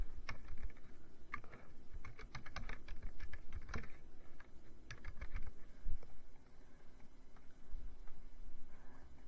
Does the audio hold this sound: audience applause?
no